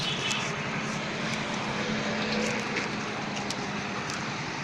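Hero HF Deluxe motorcycle engine idling at about 800 rpm, a steady close mechanical drone with a constant low hum and a faint high whine, running evenly without revving.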